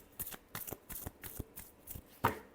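Tarot cards being shuffled by hand at close range, heard as a quick, even series of about eight crisp slaps and riffles, ending in a slightly sharper final snap.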